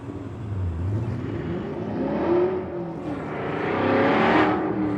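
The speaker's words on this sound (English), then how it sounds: "Man, that car is loud." A loud 5.0 Mustang passes on a city street at night in Phoenix, its engine rumble swelling and revving as it approaches, easing briefly, then surging louder again up close with a rising roar.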